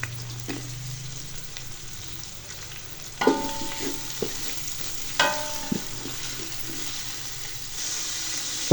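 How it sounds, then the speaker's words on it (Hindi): Tomatoes and chillies fry in ghee for a beef yakhni pulao, a continuous crackling sizzle broken by a few metallic clinks and stirring scrapes, close by and without speech. "इसको 2 मिनट तक घी में फ्राई करते हैं।"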